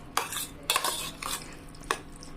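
Spoon stirring curd mixed with milk in a bowl for curd rice, a few soft scraping strokes and light clinks of metal against the vessel, close and quiet.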